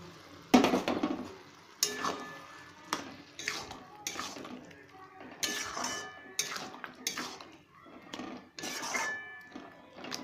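A spoon stirs spinach and masoor lentil dal in a pan, giving a series of close, irregular scrapes and clinks against the metal with quiet pauses between strokes.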